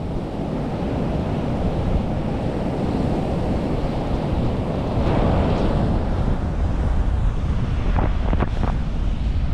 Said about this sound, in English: Wow, look at them waves.